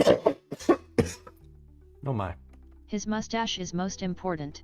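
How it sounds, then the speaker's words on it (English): A few short coughs burst out at the start, followed by a quieter stretch and then a person speaking for the rest of the clip. "that was a cough"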